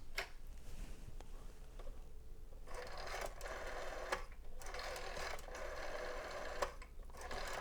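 An old Commodore-branded rotary phone dial clicks and whirs as it is turned repeatedly, several spins with ratcheting returns, close and fairly quiet in a still room.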